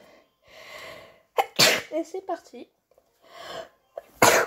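Two sharp, loud sneezes burst out, one early and one at the very end, between stretches of someone talking in French and some breathy background noise.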